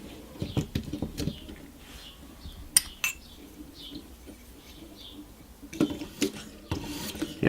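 A knife blade stroked over a 600 grit freehand sharpening stone on a ViperSharp V2 precision sharpening system, giving soft, fairly quiet raspy scrapes in an uneven rhythm with short pauses between passes.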